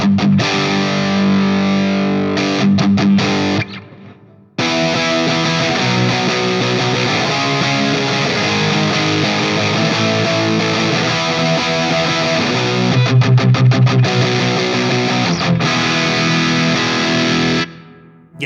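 An Ibanez RG653DX electric guitar played in a pop punk style with heavy distortion and lots of reverb: loud, steady driven chords with brief stops and palm-muted chugs, alone without talk.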